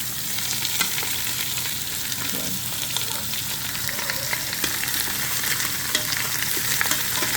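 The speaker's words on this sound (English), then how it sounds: "Get these seared up and browned up." Meat searing in a hot pan for birria tacos, a loud, close, continuous sizzle with crackling spatters and stirring, no speech.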